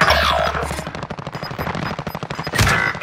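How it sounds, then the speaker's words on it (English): Sniper and automatic gunfire in Call of Duty: Modern Warfare crack in a quick rapid sequence of sharp, loud shots, closely spaced and punchy, with a bigger burst near the end. "it's somebody sniping at them from over here to there"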